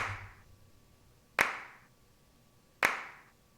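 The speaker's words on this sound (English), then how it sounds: "taking 2 claps, hard panning them, and then adjusting one of them back and forward in time by milliseconds" Two sharp layered clap samples, hard panned left and right with one nudged a few milliseconds out of time, hit alone about 1.4 seconds apart, each with a bright crack and short decaying tail.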